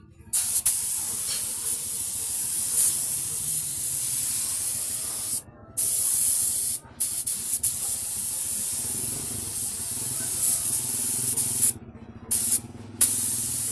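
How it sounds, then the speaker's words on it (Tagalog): Surfacer primer sprayed from a spray gun onto an Elf truck body damaged by hitting a post, a steady loud hiss running through most of the clip with a few short breaks as the trigger is released. "So, isprayhan na natin ng spray peeler guys, surfacer."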